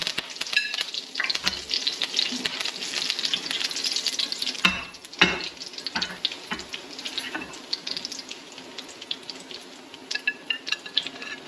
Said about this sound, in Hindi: कड़ी पत्ता जब डालते हैं तो ये ऑयल के छींटे उठते हैं।